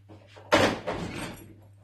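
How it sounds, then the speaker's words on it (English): A door bangs open with a sudden loud thud and rattle, ringing out briefly in a quiet room with a low hum underneath. "Open the door."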